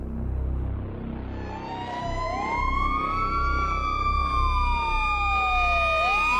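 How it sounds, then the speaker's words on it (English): An ambulance siren wails loudly as the vehicle passes, its sweeping tone sliding down in pitch as it goes by, with a steady rumble of traffic underneath and no talking. "a siren distorts as an ambulance races past us"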